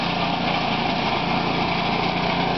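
A trail mower's small engine runs steadily at a constant high-pitched drone, loud and close, with no voices over it.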